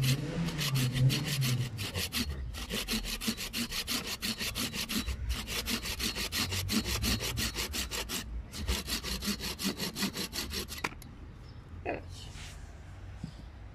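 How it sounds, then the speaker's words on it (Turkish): A hand saw cuts through a citrus tree trunk in steady, rapid back-and-forth strokes for about eleven seconds, close by, then stops as a faint voice and handling noises follow. "aşı vuracağımız bölgeden testereyle düzgün bir şekilde kesiyoruz"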